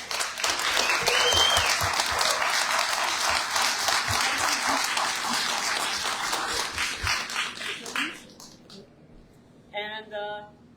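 An audience at a baronial investiture court applauds the scribes with dense, sustained clapping that fades out after about eight seconds, followed by a brief voice.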